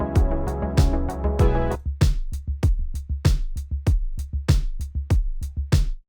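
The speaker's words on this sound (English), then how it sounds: "we can hear the kick pattern because I've split the stems." Kick drum pattern soloed from split stems in Logic Pro: steady punchy low thumps repeating in a regular beat, preceded by a brief fuller mix bleed at the start, loud and close with no talking.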